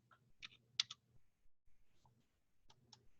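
Computer keyboard typing while entering test values into an array program, a few separated clusters of crisp key clicks in a quiet room, alone with no talk.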